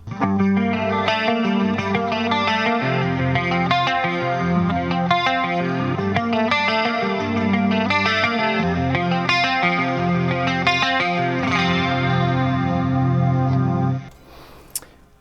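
An electric guitar runs through a BOSS CE-5 Chorus Ensemble pedal, playing a continuous, shimmering distorted riff with chordal strums and picked notes for about fourteen seconds before the sound cuts off abruptly.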